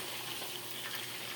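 A marinated pork chop sizzles and fries in a pan for breakfast, a dense steady crackle close by, alone with no talk.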